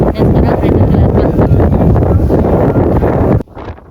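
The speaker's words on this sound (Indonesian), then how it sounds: "Ditambah angin yang kencang banget sampai suaraku kalah sama hembusannya." Strong wind gusts on a steep mountain trail at Mount Andong, roaring loudly into the microphone as a continuous buffeting rush, then cutting off abruptly near the end.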